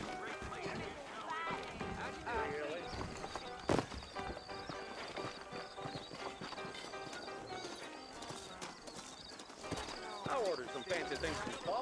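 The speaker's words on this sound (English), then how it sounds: "I got the horses saddled up and ready out front." Horse hooves clip-clop steadily in the video game Red Dead Redemption under background music and game sounds, with a horse whinnying and people talking over it.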